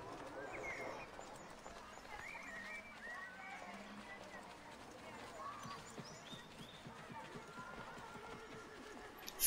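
Faint hooves clip-clop with occasional horse whinnies under a low murmur of background voices and marketplace bustle in Assassin's Creed Revelations on Xbox 360.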